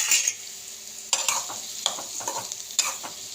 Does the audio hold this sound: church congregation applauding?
no